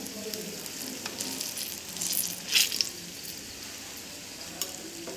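Ripe banana pitha frying in hot oil, a soft continuous crackling sizzle with scattered pops and one brief louder burst of spattering midway; no one speaks.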